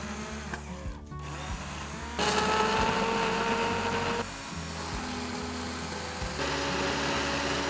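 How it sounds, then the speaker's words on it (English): A hand blender whirs steadily through cooked butternut squash soup vegetables, a continuous close motor drone whose pitch shifts as the blade works through the soft pieces, with no talking. "blend them with a hand blender until smooth and creamy"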